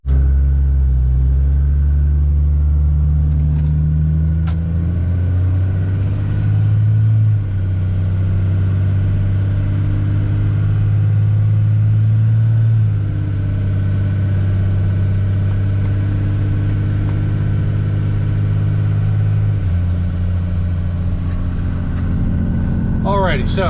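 A car driving a long road trip through the Blue Ridge Mountains on a Dynamic Stage 2 transmission gives a steady low engine rumble and road drone, loud and continuous, with a shift in pitch near the end.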